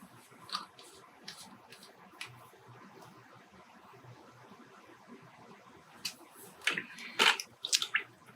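Tap water being stirred after pH adjuster is added, quiet sloshing and small clinks under low background noise, building into a cluster of louder splashy clicks near the end.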